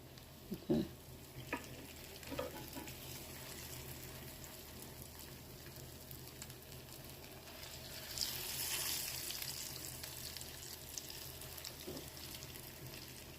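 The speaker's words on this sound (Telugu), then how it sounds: "ఇది షాలో ఫ్రై చేస్తున్నాను నేను." Beetroot cutlets shallow frying in a pan, giving a steady low sizzle throughout with a few soft clinks and handling noises, and a brief louder hiss around the middle.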